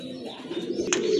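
Pigeons cooing at close range, a soft, low, throaty coo that swells toward the end, with a brief sharp chirp partway through.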